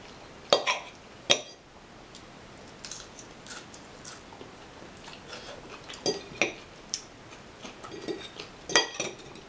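English metal cutlery is handled at a meal, giving scattered sharp clinks and scrapes in irregular bursts, close and fairly quiet with no talk.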